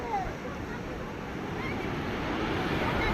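Sea surf washes onto the shore at sunrise, a continuous rushing roar of breaking waves, heard close and fairly loud with buffeting wind noise over the microphone.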